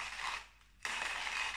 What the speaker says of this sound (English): The hand grinder will take quite some time.